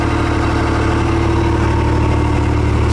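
A John Deere 318 garden tractor engine runs at a steady, loud idle close up, its low, even throb continuing without a break.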